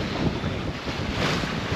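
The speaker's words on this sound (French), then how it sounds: "On a 20 nœuds de vent là actuellement." Strong wind of about 18 to 20 knots roars steadily across the microphone on a sailboat at sea in the channel off Martinique, with waves and water rushing beneath, loud and continuous without any voices.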